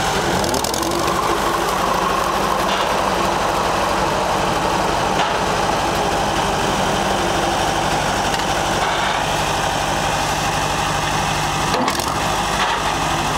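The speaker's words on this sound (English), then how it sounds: "as you can hear him grind the gears a little" Steady International 240 tractor engine idling throughout, a constant low rumble with a mechanical clatter, and a brief grinding catch of the gears near the end.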